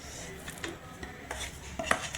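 Hot candy mixture is scraped out of a wok onto a plate, giving a few soft metallic scrapes and light clinks close by in a quiet kitchen.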